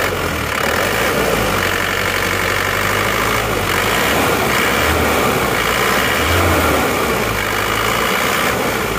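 An Isuzu Panther diesel engine idles after repair for a former misfire and oil-stick smoking, a steady close rumble with a clattering diesel knock repeating evenly throughout, with no talking.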